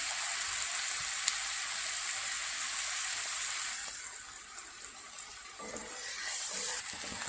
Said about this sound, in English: now I'm going to add the onions and fry till it started changing its color